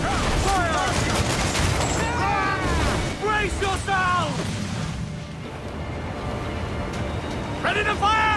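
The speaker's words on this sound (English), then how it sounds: "They are firing, sir!" Cannon fire from sailing warships during a fort battle in the pirate game Assassin's Creed Black Flag, a loud rapid fusillade of booming shots mixed with shouting crew voices throughout.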